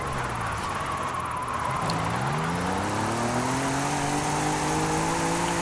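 A 1982 Volkswagen Pickup LX drifts in a racing video game with a continuous engine drone that dips and then climbs steadily in pitch as it revs, alongside steady tire hiss, close and loud throughout with no talk.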